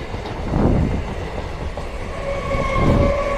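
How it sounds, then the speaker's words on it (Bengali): A Lalgola local passenger train passes on the railway track near Murshidabad station, loud and close, with rumbling wheel clatter that surges twice and a sustained metallic squeal toward the end. "মুর্শিদাবাদ স্টেশন থেকে এই ট্রেনটি লালগোলার দিকে যাচ্ছে, লালগোলা লোকাল।"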